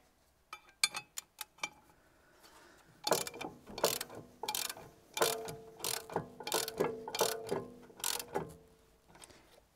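A ratchet clicks in quick bursts while tightening a bolt on a Volvo V90CC suspension strut during a lift kit install, close and crisp, with pauses between strokes and no talking.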